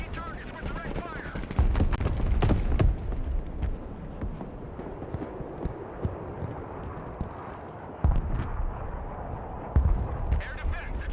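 Gunfire and artillery in the video game Broken Arrow: rolling bursts of shots and booms, with heavier blasts near the start, middle and end, while voices talk over the battle.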